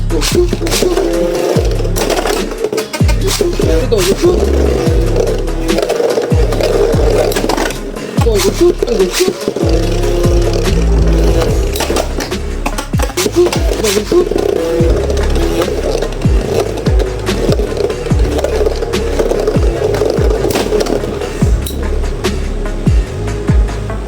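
Metal Fight Beyblade tops, launched with a Beyblade X launcher, clash in a recoil battle against defense-type tops: a continuous close, loud spinning whir with sharp knocks and scrapes from repeated collisions.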